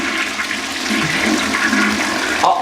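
A home toilet flushes loudly and close, a continuous rushing swirl of water that holds steady throughout with a slight gurgle at the end.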